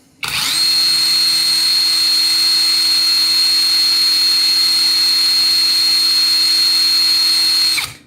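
A PATUOPRO 500 Nm cordless impact wrench spins up sharply and runs for about seven seconds as a loud, steady high-pitched whine with a constant motor tone, then cuts off abruptly, heard up close with no talking.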